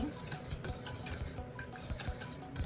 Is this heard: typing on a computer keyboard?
no